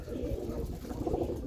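Roller pigeons coo in a low, steady murmur close by, the soft throaty calls overlapping continuously with no gaps.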